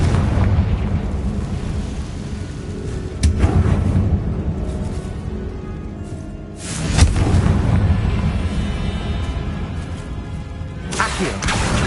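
Confringo fire spell explosions in Hogwarts Legacy, with loud booming bursts near 3 s, 7 s and 11.5 s over a steady game rumble, with no talking.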